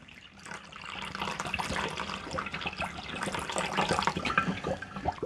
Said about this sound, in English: Let's put some water in it.